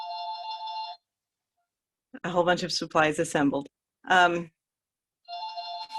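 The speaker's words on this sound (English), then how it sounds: "sorry, my phone just rang." A mobile phone ringtone plays a steady tonal melody for about a second, breaks off, then starts again after a stretch of nearby talk.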